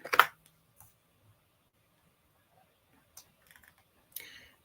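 Computer keyboard typing in a quiet room, a short cluster of sharp key clicks at the start, then scattered faint taps and a final brief burst of clicks after a pause.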